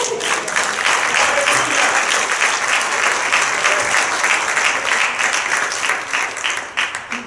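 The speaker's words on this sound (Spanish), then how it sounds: "Le doy un aplauso al Señor, hermano." A church congregation at an anniversary service bursts into loud, sustained applause that holds steady for several seconds before starting to thin out.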